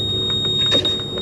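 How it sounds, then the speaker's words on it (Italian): A GPS man overboard alarm on a sailboat's navigation unit sounds a steady, loud high-pitched electronic tone that runs unbroken through the moment, with faint background noise beneath it. "vedete, e si attiva un allarme."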